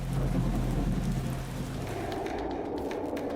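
Steady rain falls in Ziro, Arunachal Pradesh, a dense continuous hiss and patter with a low rumble underneath, loudest at first and easing slightly, with no voices.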